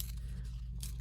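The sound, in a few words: paper being torn for crafting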